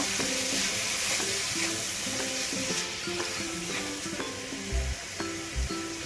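Tomato frying in a pan with a loud, steady sizzle, broken by repeated clinks and scrapes of stirring and a couple of dull knocks, close and continuous.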